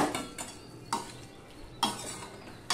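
A spoon scrapes and clinks against a pan as a vegetarian drumstick curry with fried lentil dumplings is stirred and mixed, giving a few distinct scraping strokes at irregular intervals over quiet background noise, close and moderately loud.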